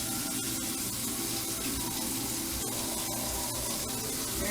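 Greasy cooking water pours steadily from a pot into a kitchen sink, a continuous loud splashing gush that runs on its own without talk.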